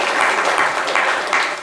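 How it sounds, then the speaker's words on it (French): Applause from a studio audience on a French talk show, a dense steady wash of many hands clapping close and loud throughout, with no voices. "applaudissez pour lui"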